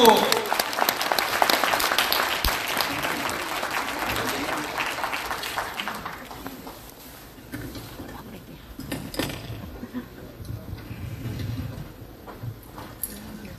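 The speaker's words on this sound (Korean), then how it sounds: "힘찬 박수로 맞이해 주십시오. 힘차게 박수." A congregation at a national church leaders' opening worship service applauds loudly to welcome a preacher, with dense clapping that fades after about six seconds into scattered claps and room noise, and a voice speaks briefly.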